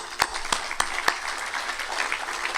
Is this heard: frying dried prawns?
no